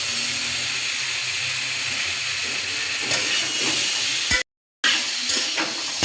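Mixed vegetables with potato, eggplant and drumstick stalks frying and being stirred in a pan for a Bengali fish curry, a steady close sizzle and hiss with scraping stirs, briefly cut out near the end before resuming.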